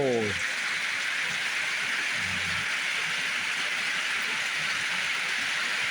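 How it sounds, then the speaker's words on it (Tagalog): Heavy rain pours as a dense, steady hiss throughout, with brief low voice-like sounds near the start and around two seconds. "lakas ng ulan mga par"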